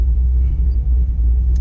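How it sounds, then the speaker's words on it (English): A 2009 Corvette C6 Z06 engine rumbles low and steady at the track, heard loud and close from inside the car with no voices. "We back at the track again, this time in Anthony's 2009 C6 Z06"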